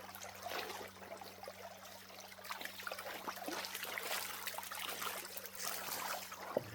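Water swirling and trickling in a gold pan while prospecting in a creek, a steady close sloshing stream with a constant low hum underneath.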